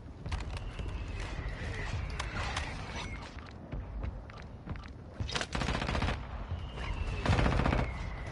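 Bursts of gunfire from a Call of Duty Warzone match, scattered shots early then denser volleys later, mixed with game effects and faint voice chat underneath.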